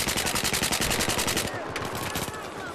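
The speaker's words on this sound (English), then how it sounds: "I used my, machine gun at them." Battlefield 4 video game machine gun firing in a fast, even burst of loud shots that stops abruptly partway through, leaving a fading echo and softer distant pops.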